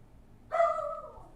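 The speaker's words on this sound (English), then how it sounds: "Why is she barking?" A dog gives a single short, faint bark, a brief tonal yelp that fades out over about a second.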